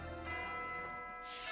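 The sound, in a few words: church bell ringing in video game Fire Emblem Three Houses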